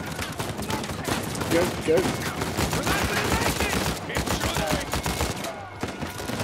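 Sustained, dense gunfire from an Uncharted 4 firefight crackles continuously at close range, with overlapping rapid shots and impacts and a voice calling out briefly in the middle of the shooting.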